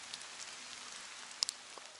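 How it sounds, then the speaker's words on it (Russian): Heavy rain shower in a village, a soft continuous hiss of falling rain with a few sharper drop hits, faint and fairly distant, with no talk. "Пошел опять ливень, только что прошел."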